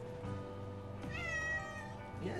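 Reggie, a house cat, gives a clear, drawn-out meow close by, with some low background rumble and a faint voice near the end.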